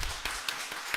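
A church congregation claps in a short blessing applause during a Sunday service, sharp scattered hand claps at moderate distance with no talking.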